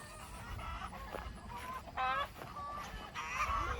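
Several chickens squawk and cackle in agitated bursts, some sharp and loud, others fainter, with outdoor background noise throughout.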